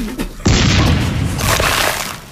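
A cartoon cannon in the Toontown video game fires with a sudden loud boom that rolls into a sustained blast and rumble, close and dominant, following a brief voice.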